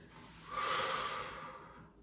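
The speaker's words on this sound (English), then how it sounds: "Exhale as you lift. Inhale, lower." A single long, breathy exhale during a Pilates mat exercise, close to the mic, swelling and then tapering off over a couple of seconds.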